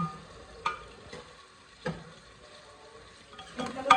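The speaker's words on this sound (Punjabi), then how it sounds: "ਹੁਣ ਇਹਨੂੰ ਲੱਗਣ ਲੱਗਿਆ ਤੜਕਾ" Tadka tempering in a pan on a home kitchen stove: a faint, steady sizzle with a few light clinks and stirring scrapes at intervals, quiet and close.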